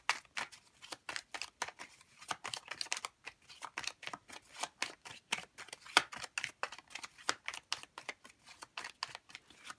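Tarot cards being shuffled by hand, a steady run of soft, quick riffling slaps and flicks repeating close up and fairly quiet, with no talking.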